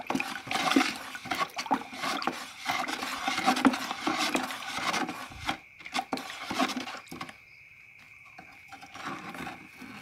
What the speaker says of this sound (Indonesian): aduk sampai homogen ya teman-teman